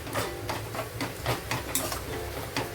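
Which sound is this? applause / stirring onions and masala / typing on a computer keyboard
stirring onions and masala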